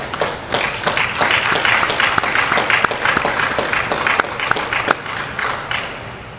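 An audience at an Air Force Basic Military Training graduation applauds steadily for several seconds, dense overlapping claps sustained throughout and tapering slightly toward the end.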